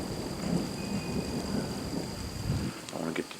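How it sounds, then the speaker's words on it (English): Low thunder rolls and rumbles continuously in the distance during a tornado-producing storm, with wind buffeting the microphone throughout. "know if you can hear that thunder"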